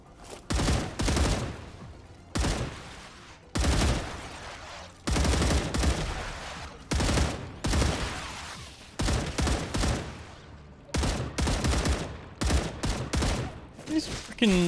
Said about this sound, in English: Oh, they are actually like launching mortars.